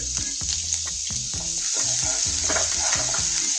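Chopped onion and garlic sauté in two spoonfuls of hot oil in a kadhai, giving a steady close sizzle. A spoon stirs the pan in rhythmic scraping strokes roughly every half second.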